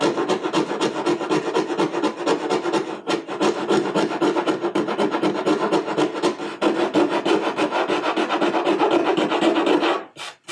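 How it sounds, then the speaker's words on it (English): A small hand file rasps along a wooden edge being bevelled, producing rapid rhythmic scraping strokes, close and loud, continuing steadily with a brief break partway through. "that little file gets out the really deep cuts"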